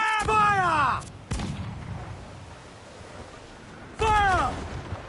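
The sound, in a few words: ship cannon fire in Assassin's Creed Black Flag video game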